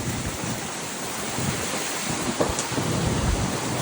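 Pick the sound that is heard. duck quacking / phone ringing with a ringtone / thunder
thunder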